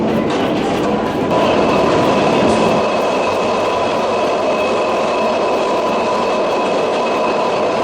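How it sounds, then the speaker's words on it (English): A loud train roars along steadily, a dense rumbling rush with metallic squeal and whine, close and unbroken throughout. "of all the trains I've ever been on, that was probably the loudest"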